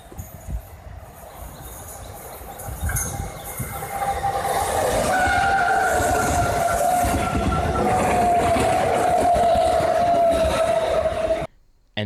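A Brisbane City and Springfield Central train rolls through, heavy rumbling wheels and carriage noise building louder, joined midway by a sustained high wheel squeal, before stopping abruptly.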